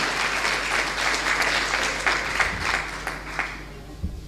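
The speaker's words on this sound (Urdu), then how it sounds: "آپ کی تالیاں بتائیں گی کہ آپ کتنا خوش ہیں." A church congregation applauding after being asked to clap, a dense, sustained patter of many hands at moderate distance that thins out near the end.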